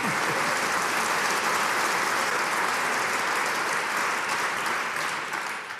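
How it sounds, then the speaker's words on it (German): Studio audience at a television talk show breaks into loud, dense applause that carries on steadily for several seconds before beginning to fade at the end. "Applaus!"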